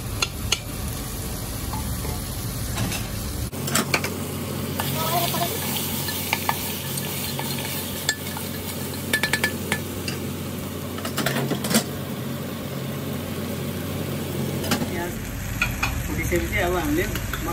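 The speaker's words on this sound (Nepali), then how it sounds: "म अलिअलि भुटिसकेपछि अब अदुवा लसुनको पेस्ट हालिदिन्छु" Ginger garlic paste frying for lamb curry with okra, a constant loud sizzle under repeated scraping and stirring strokes against the pan, with a low steady hum through the middle stretch.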